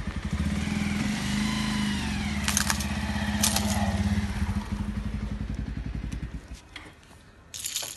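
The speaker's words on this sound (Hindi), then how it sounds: "तो अभी इनके ऊपर से बाइक निकाल के दिखाएंगे आपको।" A Bajaj Pulsar motorcycle idles and then rolls forward close by, its steady engine chug pulsing, with brief metallic clinks as it rides over keyrings before the engine note fades.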